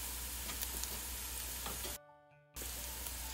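Crushed ginger and garlic sizzling in hot oil for a homemade roti soup, a steady close frying hiss that drops out briefly for half a second before resuming just as strongly.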